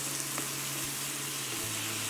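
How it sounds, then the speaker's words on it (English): Seared filet beef with vegetables crackling in a hot pan while being stirred together, a soft, steady sizzle with faint scraping underneath and no voices. "I'm going to go ahead and mix this all in with the vegetables."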